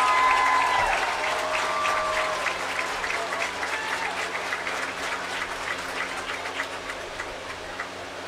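A crowd in the stands at a high school football game applauds the cheerleading squads, with steady clapping that starts strong and slowly thins, and a faint announcer tone fading out at the start.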